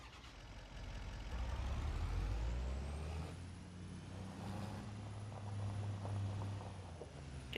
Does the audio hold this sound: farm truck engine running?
yes